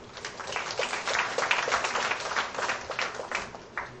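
An audience at a formal annual session gives a round of applause, with many hands clapping in a lively, fluctuating burst that swells and eases over a few seconds, alone without speech.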